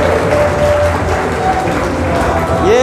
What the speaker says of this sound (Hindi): सब जन तालियां बजाइए